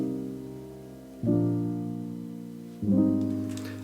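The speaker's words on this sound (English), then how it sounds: "I'll start with this one, which is just a Labs soft piano" A Labs soft piano plays sustained chords with reverb switched off, three mellow, dry chord strikes that each decay slowly and sit quiet and close with no other sound.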